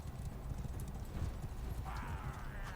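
Horse hooves clip-clop steadily in a video game, joined near the end by a higher whinny over a continuous low rumble of game ambience.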